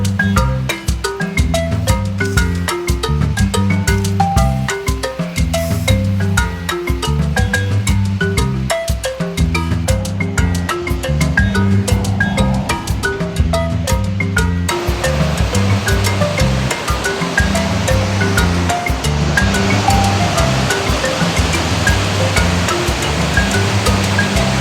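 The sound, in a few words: Nardis waterfalls near Madonna di Campiglio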